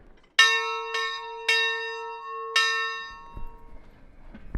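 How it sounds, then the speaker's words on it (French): Church bells ring at the former Carmel convent in Rodez: four clear, loud strikes at uneven intervals, each leaving a long ringing decay, fading out into quiet background noise at the end. "Des cloches qui sonnaient pour l'ensemble du quartier"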